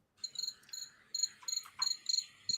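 Steady rhythmic cricket chirping played from a phone app, in quick pulsed bursts, close and distinct, with a few faint clicks between them and no voices.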